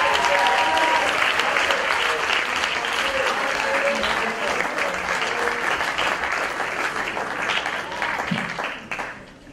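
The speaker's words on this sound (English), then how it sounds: "let's give them a round of applause for being brave." Audience applause for performers at a poetry reading, a thick continuous clapping that holds strong for most of ten seconds, with faint voices and whoops mixed in, then dies away at the end.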